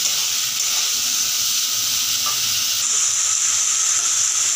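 Spices frying in a pan by candlelight during a power cut, a steady close sizzle that holds throughout and brightens partway, with faint stirring beneath and no talk.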